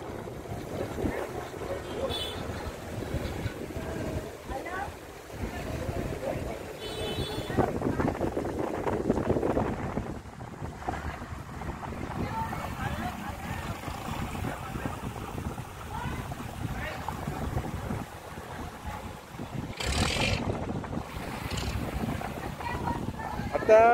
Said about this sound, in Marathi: आता ही कुलाबा बोट निघालेली आहे